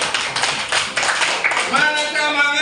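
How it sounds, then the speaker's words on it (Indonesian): Classroom students clap their hands in a dense, steady burst of many close claps. Voices of children rise and mingle over the clapping toward the end. "Oke, tepuk tangan."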